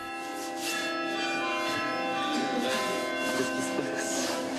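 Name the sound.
church bells ringing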